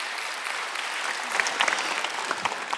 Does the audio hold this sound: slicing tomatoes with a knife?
no